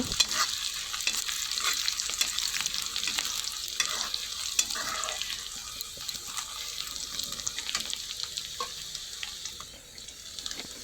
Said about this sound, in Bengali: তেলটা গরম হয়ে গেছে তারপর পেঁয়াজ কাঁচা লঙ্কা সব কিছু একসাথে দিয়ে দিয়েছি